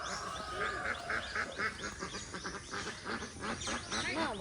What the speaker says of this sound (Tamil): பக்கத்தில் வாத்து மேய்ஞ்சிட்டே வருது